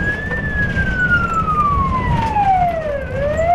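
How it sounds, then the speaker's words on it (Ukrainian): An ambulance heading out on a call with a patrol police car escort, sirens on, in the Khmelnytskyi region: a single wailing siren tone glides slowly down and then rises again over steady road rumble. "В обох машинах вімкнені спецсигнали."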